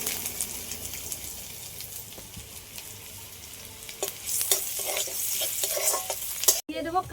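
Chopped garlic and ginger sizzle steadily in hot oil for a Szechuan sauce, with brisk stirring scrapes growing louder near the end and a brief dropout just before the finish.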